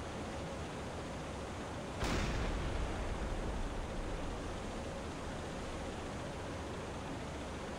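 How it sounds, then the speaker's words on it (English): A big explosion in a naval submarine video game sounds as a single sudden, deep blast that rises out of a steady hiss of background noise, then decays slowly into a low, broad rumble. "Oh, that's a big explosion."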